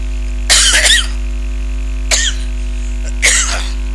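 Three harsh coughs from a cold, a long double one first, then a short cough and another burst, over a loud steady electrical hum.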